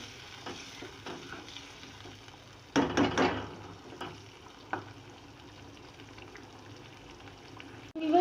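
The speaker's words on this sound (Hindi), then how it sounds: "ये हरी मिर्चें भी मैं डाल दूँगी और इन्हें भी मैं इसके साथ ही भून लूँगी" Chicken karahi with green chillies frying and being stirred in a pan, a steady low sizzle with a louder burst of frying and spoon scrapes near the middle, close and without talk.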